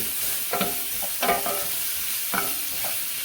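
Shrimp frying with onions in a hot pan, a steady broadband sizzle with a few louder bursts of stirring and scraping, close and continuous with no talking.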